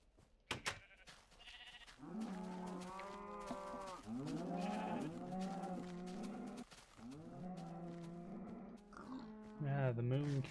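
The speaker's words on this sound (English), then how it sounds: "the moon cows" Cows from the Minecraft moon setting lowing in repeated drawn-out moos, several overlapping calls rising and falling across the stretch, fairly loud and close with a few short clicks at the start.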